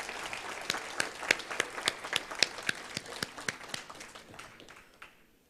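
A conference audience at a Caribbean TVET international conference claps in a brisk, moderately sized round of applause that thins and fades out at the end.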